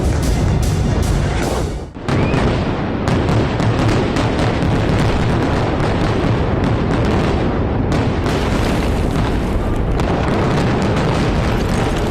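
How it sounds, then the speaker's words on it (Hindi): Explosions from F-15 bombing of a bunker in the Israel–Hezbollah war roll out as a continuous loud, dense rumble of blasts and booms with a brief dip near two seconds, heavy and sustained throughout. "F-15 से बमबारी"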